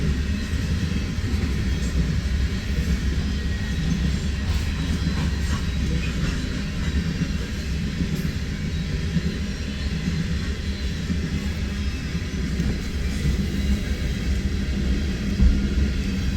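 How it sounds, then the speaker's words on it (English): A loaded eastbound coal drag on the former CB&Q line at Pacific Junction, Iowa, rolls past in a steady, close, continuous low rumble of wagons that holds evenly throughout with no voices. "Again, this is an eastbound loaded coal drag, Railfanning Adventures, here in Pacific Junction, Iowa, on the former CBQ"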